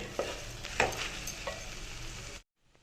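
Fried fish pieces being stirred with masala in a pan, a close, steady sizzle with a few scraping strokes, ending abruptly in silence.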